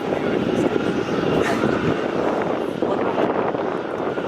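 Boeing 787 jet engines spool up at Melbourne Airport, heard close as a loud, broad roar that holds steady throughout, with some wind buffeting the microphone.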